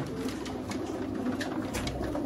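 Sialkoti pigeons coo softly and steadily in a close, continuous murmur, with no talking.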